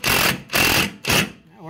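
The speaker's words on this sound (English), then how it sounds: "let's try driving a screw." A power drill drives a screw into a repaired Miller drive wheel, giving three loud whirring bursts of motor noise with short pauses between them.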